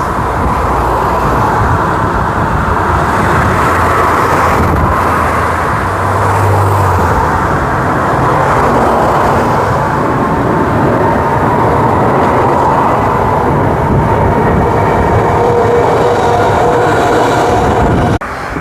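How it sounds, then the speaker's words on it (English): A train on the Thornlie-Cockburn line rumbles into a station and rolls past in a long, steady roar of wheels on track, loud and close throughout, with no talking. "here we go, train is approaching."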